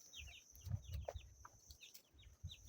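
Chickens cluck on a rural farm with a sick father and son, several birds and chicks calling in short bursts at moderate distance over low rustling and background noise.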